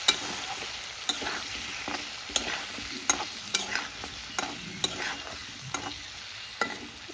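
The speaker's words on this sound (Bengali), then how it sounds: "তুলে নিয়ে আবার একটু নেড়ে নেব" A spoon repeatedly knocks and scrapes through a pan of fish curry with drumsticks, sharp taps at irregular intervals over a soft continuous sizzle, with no one speaking.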